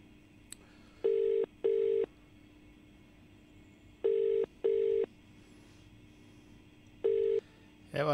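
A telephone rings unanswered during a call-in segment of a Telugu radio entertainment show: paired ring pulses repeat three times in a steady pattern, clear and moderately loud, with no one speaking.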